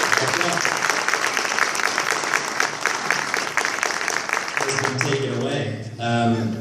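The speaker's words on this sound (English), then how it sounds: "let's give him another round of applause for that speech" An audience applauds after a speech at a commemoration of Canadian veterans of Afghanistan, with loud, sustained clapping that fades near the end as a voice starts speaking.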